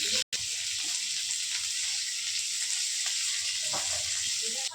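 Chopped chillies and salt being stirred in sizzling oil in a pan for homemade pasta, a steady broadband sizzle with soft scraping stirs throughout, close and fairly loud, with a brief dropout near the start.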